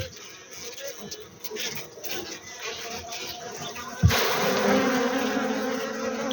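Honey bees swarm around an open hive in spring, their dense, continuous buzzing close and steady, growing louder after a sudden knock partway through.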